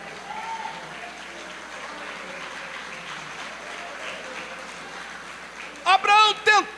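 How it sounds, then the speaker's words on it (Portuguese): Congregation applause during a church sermon, a soft, diffuse patter of clapping spread across the room, with a voice cutting in loudly near the end. "As palmas são para Jesus."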